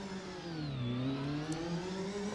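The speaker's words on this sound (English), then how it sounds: "We'll raise the revs a bit." VRC Formula NA 1999 race car engine with a manual gearbox revving in a steady drone, the pitch dipping briefly and then rising again, close and continuous with no talk.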